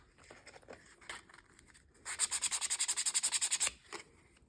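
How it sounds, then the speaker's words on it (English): Laser-cut wood is sanded with 240 grit sandpaper in a quick run of about fifteen rhythmic rasping strokes, close and clear, with lighter scrapes and handling noises around it. "So I'll just give it a quick sand to get off the worst residue marks and also make my wood smooth to paint on."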